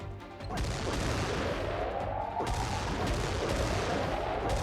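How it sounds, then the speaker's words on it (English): Heavy gunfire rattles against an aircraft in the video game Xenonauts 2, loud sustained bursts with sharp impacts and a rising whine from the craft, continuous and dense with no voices. "Taking a lot of fire, Griffin 3."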